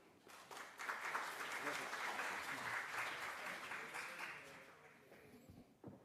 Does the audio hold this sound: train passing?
no